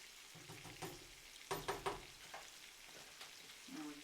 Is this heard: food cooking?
yes